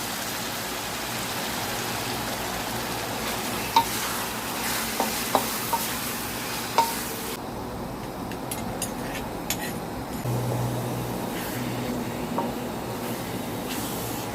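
Pork stir-fried over medium heat for a tamarind chili paste, with a dense, constant sizzle and occasional sharp spatula clicks against the pan, close and even throughout, without speech.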